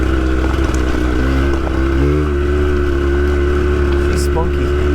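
Suzuki X-90 on a cool-off lap, its engine droning steadily and loud from inside the cabin with slight rises in pitch as it changes speed, with wind and road noise running underneath the whole time.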